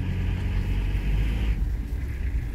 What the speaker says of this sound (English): Put it in reverse, make sure there's nobody behind me.